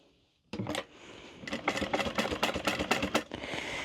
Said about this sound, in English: we're just going to stitch around, starting at the bottom